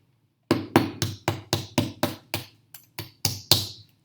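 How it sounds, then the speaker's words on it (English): A hammer striking a metal sample on a chemistry lab bench, about a dozen sharp ringing blows at an even pace, each decaying quickly, loud and close with no talking. "So I'll hit this with the hammer again."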